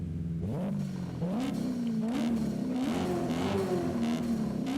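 A 2008 BMW M3 engine in sport mode revs close and clear, pitch climbing and easing in repeated swells over a steady idle rumble.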